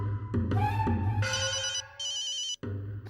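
A phone rings with a melodic electronic ringtone, close and clear, its tune repeating in short phrases with brief gaps and no speech.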